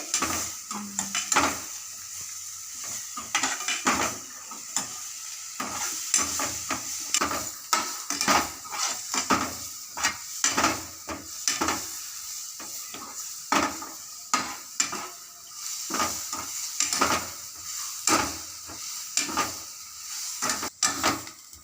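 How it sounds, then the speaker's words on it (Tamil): Onions sauté in a frying pan, a soft sizzle under repeated clacking strokes of a utensil stirring against the pan, steady and close throughout. "வெங்காயத்தை வதக்கிக்கலாம். கொஞ்சம் கலர் வரட்டும்."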